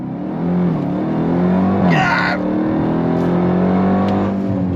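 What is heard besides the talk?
Dodge Durango Hellcat Jailbreak V8 launch control acceleration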